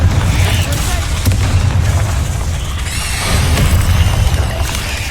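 Fiery spell blasts from Bombarda and Confringo go off in Hogwarts Legacy as a run of loud, rumbling booms and bursts, one after another, with a voice heard now and then in between.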